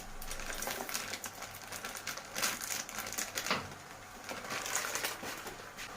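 Dry pasta tumbles from a bag into a pot, a continuous rattling, clattering patter lasting several seconds with a few louder surges, close by in a home kitchen.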